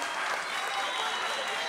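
Steady, dense audience applause fills the room continuously, a broad even wash of many hands clapping at the close of a session of project presentations at CHAPA 2022.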